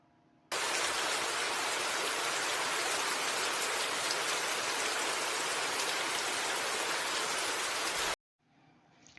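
Steady rain pours down for about eight seconds, a dense, even hiss that starts and stops abruptly like a played sound effect, with no voices over it.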